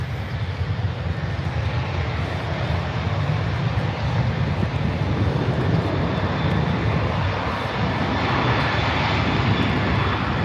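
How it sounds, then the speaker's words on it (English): A Qantas airliner passes at Adelaide Airport, its jet engines giving a steady, loud broadband roar that holds throughout with a slight swell toward the end, heard from the ground nearby. "As Qantas goes in the background, you should be able to hear him there."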